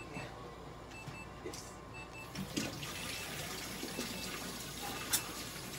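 Tap water runs steadily while a syringe for a toy poodle's treatment is rinsed in a sink, giving a continuous wash of splashing with a few faint knocks and clinks.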